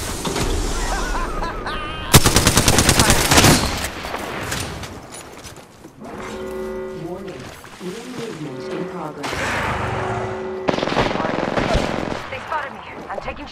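Bursts of automatic gunfire in Apex Legends, loud rattling volleys mixed with game sounds and announcer-style voice lines, with quieter gaps between the firing.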